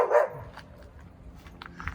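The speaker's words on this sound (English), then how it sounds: "This is my loud dog." Dog barking in a Berkeley back garden: a couple of sharp barks at the start, then quieter yips, fairly distant and faint.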